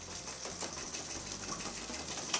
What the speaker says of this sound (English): Now, you take a whisk, like so.